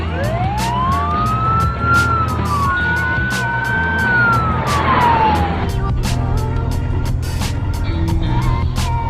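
An ambulance siren wails in rising and falling sweeps over steady traffic and engine rumble, loud and close, with a few sharp clicks and bangs through the scene.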